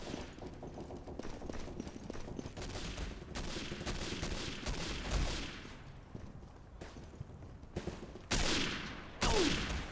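Dense gunfire from Day of Defeat: Source, a World War II shooter, with rapid overlapping automatic bursts and shots that keep going throughout and grow louder in sharp volleys near the end.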